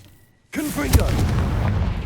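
A Confringo explosive spell cast in the Hogwarts Legacy video game bursts in with a sudden loud blast after a quiet moment, then a sustained rumbling roar and crackle, while a voice calls out over it.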